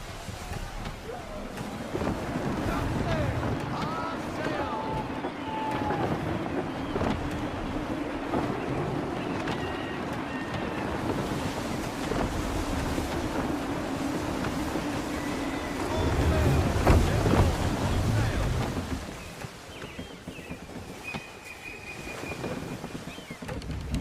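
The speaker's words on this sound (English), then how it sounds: "Gusty winds can be difficult to manage." Wind and creaking sailing ship noise at sea in Assassin's Creed 3 form a steady windy wash with water, running continuously at moderate level under occasional game dialogue.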